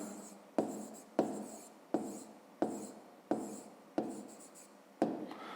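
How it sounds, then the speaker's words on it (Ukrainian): A pen writing on paper in a maths workbook, making repeated scratchy strokes in a steady rhythm of about nine sharp-onset scrawls, close and fairly quiet, with no talking. "Ну, а тепер записуємо відповідь"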